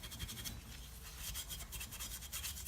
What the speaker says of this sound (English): I'm just taking the maroon Scotch-Brite pad and rubbing it on here